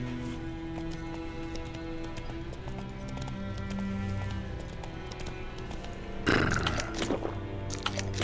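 Horse hooves clip-clop steadily in a video game, a continuous mid-level rhythm over a layer of game music, with a louder burst of movement near the end.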